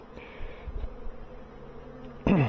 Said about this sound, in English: a nice day where the bees are flying